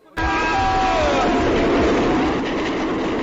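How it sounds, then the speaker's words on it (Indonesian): A train in an Indian film scene bears down on someone on the tracks, a sudden loud rumble with a blaring horn and clattering wheels that starts abruptly, fills the stretch and cuts off at the end. "kereta mendekatinya dan hampir menabraknya"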